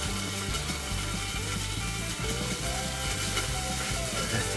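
Onions sizzling on a grill for a double bacon cheeseburger, a steady close crackling fry with no break and no talk.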